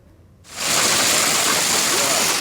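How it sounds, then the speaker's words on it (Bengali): Heavy rain with hail on a stormy night in Sunamganj sets in suddenly as a dense, loud, steady roar of hard drumming that fills the air without pause. "ভারী বর্ষণের সাথে ভয়াবহ শিলাবৃষ্টি।"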